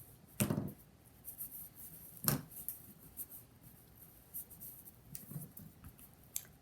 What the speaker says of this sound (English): I'm just burnishing hard